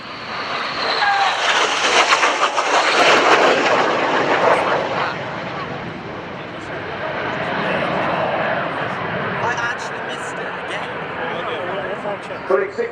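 Two synchro pair display jets sweep past at an RIAT Fairford airshow, a loud rushing roar that swells, peaks and fades into a lingering distant engine rumble, with a commentator talking over it.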